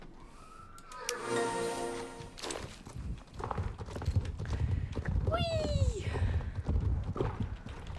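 Star Stable Online horse hoofbeats clip-clop in a steady trot beneath a busy mix of music, effects and a brief excited shout.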